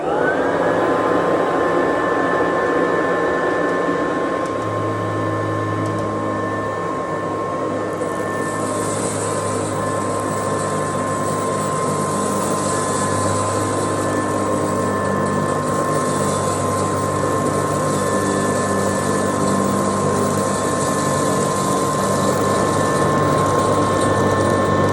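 A 1969 Kirby Classic 1CR vacuum cleaner running on carpet strewn with crunchy rice, a loud steady motor whine with a high tonal hum and airy hiss, constant and close with no talk.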